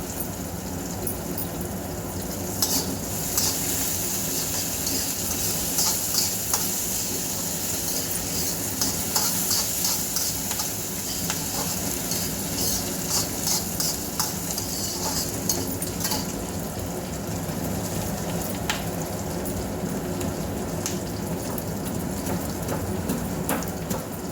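Dry red chillies and curry leaves crackle and sizzle steadily in hot oil while being stirred, a continuous close frying hiss with scattered pops and spatters, no voices.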